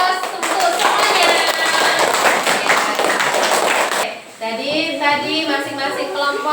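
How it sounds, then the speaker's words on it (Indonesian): A class of children claps together in a classroom, a dense, loud patter of hands lasting about four seconds before tapering off, after which a voice speaks over faint lingering claps. "Yuk berikan aplaus untuk semuanya."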